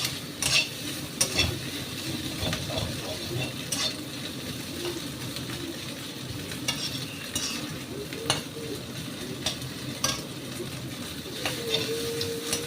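Onion frying with egg in a pan for an okra dish, giving a steady close sizzle broken by repeated scraping stirs and light clinks of the spatula against the pan, with no talking.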